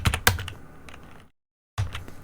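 Quick bursts of keystrokes on a computer keyboard while working in a command-line shell, clattering close up, then a short silent pause before the typing resumes.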